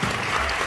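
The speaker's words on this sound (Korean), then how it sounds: "네, 큰 박수 부탁드리겠습니다." Wedding guests break into applause at a reception hall, a dense, steady burst of clapping from a crowd, heard close and alone for a brief moment.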